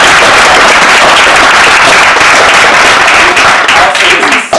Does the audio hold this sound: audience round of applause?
yes